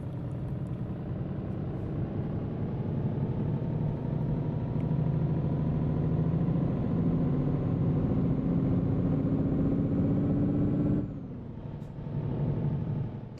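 A heavy V8 truck engine in Euro Truck Simulator 2 drones steadily, its low rumble rising slightly in pitch before a sharp hiss and a drop back to idle.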